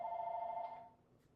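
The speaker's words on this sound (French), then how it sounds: "Ben non, c'est mon téléphone" A mobile phone rings with a steady electronic tone that holds for most of a second before cutting off, leaving a quiet room with no speech.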